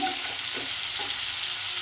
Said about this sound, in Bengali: চিংড়ির মাছগুলোকে ভালো করে ভেজে নিচ্ছি